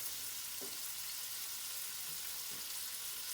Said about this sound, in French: On peut mettre donc le lard dans la poêle, bien mélanger avec une spatule pour ne pas griffer le fond de la poêle.